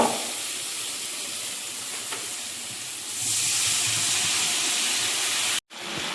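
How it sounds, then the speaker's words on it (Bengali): Rita fish curry gravy boils in a pot, a dense steady bubbling hiss that swells louder midway and keeps going, broken by one brief cut near the end. "মাছের ঝোলটিও ফুটে উঠেছে"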